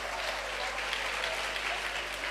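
Church congregation clapping together, a dense, steady wash of applause that holds at an even level for the whole stretch, close and full, with a low hum underneath.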